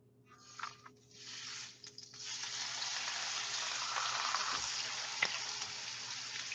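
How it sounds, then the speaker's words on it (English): A T-bone steak lands in hot oil in a pan, breaking into a loud, steady sizzle that builds after a few soft bumps and holds as a continuous close crackle. "Hear that sizzle?"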